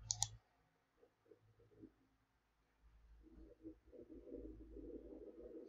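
A quick double mouse click sounds at the start, close and crisp, followed by quiet low room noise and faint rumbling.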